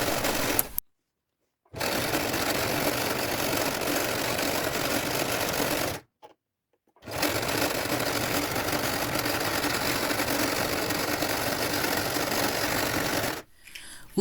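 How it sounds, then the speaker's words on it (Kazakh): A sewing machine runs in long steady bursts, overlocking or zigzag-stitching the seam of a straight classic skirt. The stitching is close and loud, with two short pauses between runs and no talk. "Екі жағынан тігіп болған соң оверлок немесе зигзагпен өңдеп шығамыз."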